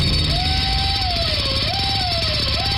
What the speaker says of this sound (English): Does your trip to the dentist office sound like this?